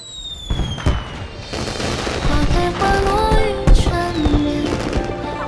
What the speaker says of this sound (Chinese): 哇，花神节的烟花！